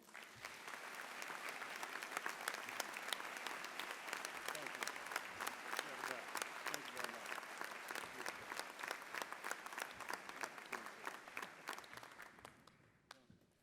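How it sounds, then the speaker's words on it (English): Audience at an annual town meeting in Mashpee gives a long round of applause for a retiring official, a steady dense clapping that holds for over ten seconds before tapering off at the end. "please give him one more round of applause"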